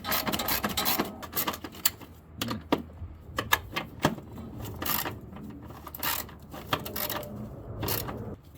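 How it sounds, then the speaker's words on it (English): A ratcheting wrench tightens the nuts on a Jeep Cherokee battery hold-down bracket in quick bursts of rapid mechanical clicking with short pauses between, close and fairly quiet. "then we're going to tighten them down with the ratcheting wrench"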